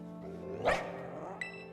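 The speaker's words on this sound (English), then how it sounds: "There's a good bark." A dog barks once loudly in the Pokémon Scarlet video game, a sharp close yip, followed by a brief bright chime over a steady low game music bed.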